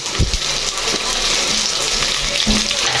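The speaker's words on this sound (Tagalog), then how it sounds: "Gisa-gisa na naman bro." Onions sizzle and sputter in hot oil in a pan, a steady close frying hiss broken by a few sharper pops and scraping clatters, with no voices.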